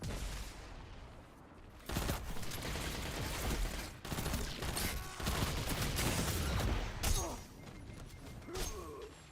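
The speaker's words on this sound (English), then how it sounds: "I can hear him firing again." Bursts of automatic gunfire from an enemy player in the shooter game Destiny 2, loud and repeated in fusillades across most of the clip, with sharp onsets and busy overlapping shots.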